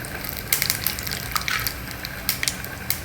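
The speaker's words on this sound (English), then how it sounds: "Heat a spoon of oil. Add some mustard seeds, jeera and 1 dry red chili." Mustard seeds, jeera and a dry red chili sizzle and crackle in a spoonful of hot oil for a South Indian tempering, with sharp pops and spits over a steady frying hiss, close up.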